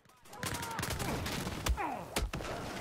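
Gunfire rattles through a Battlefield 4 multiplayer match on Xbox 360: dense bursts of shots with a few louder sharp reports and sweeping game effects, heard close and busy.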